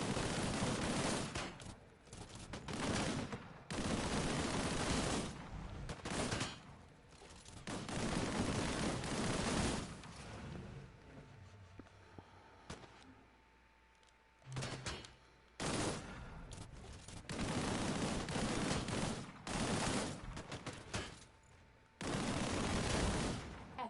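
Primary-weapon fire from a player in the shooter Disintegration, aimed at enemies, rattles out in long loud sustained bursts separated by short gaps, with a quieter stretch of distant booms and hum in the middle.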